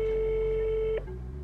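A telephone rings with a steady electronic tone for about a second, then cuts off abruptly as the call is picked up, leaving only faint room noise.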